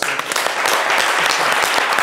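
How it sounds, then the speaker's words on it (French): A crowd claps steadily and loudly, a dense wash of applause with no pauses, continuing throughout. "Ça s'applaudit les gars."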